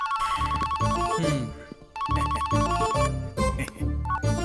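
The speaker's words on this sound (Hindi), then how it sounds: "अरे इसे कोई साइलेंट मोड पे रख दो, रिंगटोन भी मुझे उसकी टोन में सुनाई दे रहा है" A loud phone ringtone plays close by, its electronic melody repeating twice with a brief dip between.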